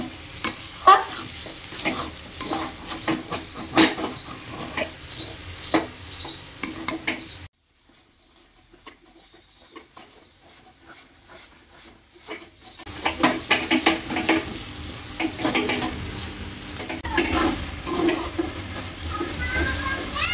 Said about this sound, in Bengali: এটাকে তখন হিটটা কমিয়ে দিয়ে হালকা আছে ভালো করে কষিয়ে নিতে হবে